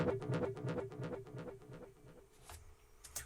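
Delay effect in Ableton with very high feedback, repeating a short synth note in rapid echoes that fade over a few seconds. The repeats are quiet, followed by faint clicks and near silence.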